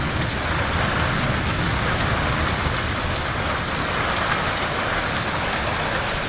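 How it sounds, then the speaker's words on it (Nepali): Large hailstones pound down steadily in a mountain village in Taplejung, a dense, unbroken roar of impacts at a constant, loud level with no voices. "यस्तो नमजाको असिना आएको छ नि कम्ती ठुल्ठुलो आएको छैन क्या असिना पनि फेरि"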